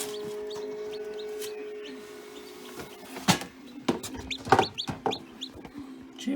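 Newly hatched chicks cheep close by in quick, uneven chirps, busiest in the second half and over a faint low hum.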